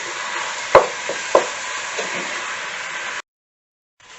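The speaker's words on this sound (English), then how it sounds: "Again, listen to the sizzle. Sizzle is what you want." Lamb browning in a frying pan for Welsh cawl, a steady bright hiss with a couple of sharp clicks, then it stops abruptly.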